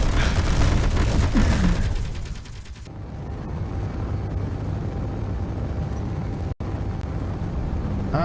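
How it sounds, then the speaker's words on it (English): Gunfire in Space Engineers: a loud burst of rapid shots opens, then gives way to a steady, heavy rumble of machinery and distant booms. "That was some guns right there"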